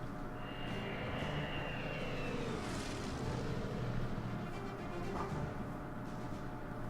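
A plane in the wartime strategy game Order of Battle drones overhead with a steady, rumbling engine roar that holds for several seconds at moderate loudness, with no talk over it.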